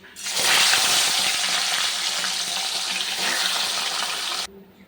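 Pomfret fish hits hot oil in a wok, a loud, broad sizzle bursting up at once and holding steady for several seconds before cutting off abruptly.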